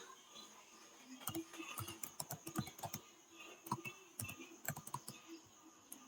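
Typing on a computer keyboard while entering database attributes, heard as quick irregular bursts of close key clicks separated by short pauses.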